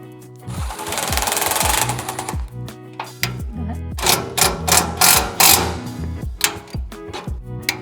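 A power tool drives screws into a Yoder YS640S pellet smoker, loud close bursts of whirring and rattling separated by short pauses, several runs in a row.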